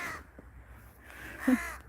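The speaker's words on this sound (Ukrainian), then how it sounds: "Ворона. Полетіла." A crow caws once outdoors, fairly close, after a brief quieter call, with low street or wind rumble in the background and no speech.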